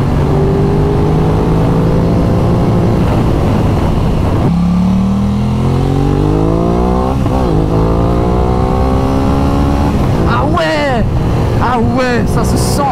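A car engine in dynamic drive mode accelerates hard on a mountain road, its revs climbing in rising sweeps through several gears with a loud, continuous roar. Someone talks over it.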